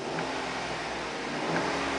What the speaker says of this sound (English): Car is running right now. I'm going to rev it.